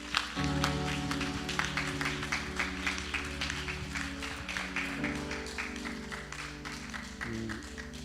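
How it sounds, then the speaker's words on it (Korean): A church congregation applauds during a Sunday worship service, a steady round of clapping over sustained organ or keyboard chords at moderate volume. "다시 한번 우리 주님께 감사의 박수로 영광합니다"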